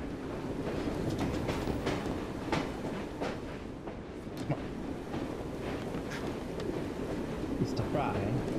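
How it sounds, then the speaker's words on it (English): Steady rumbling train ride in the video game Assassin's Creed Syndicate, a continuous rolling clatter with windy noise throughout, and a voice talking over it. "I need to get off the train."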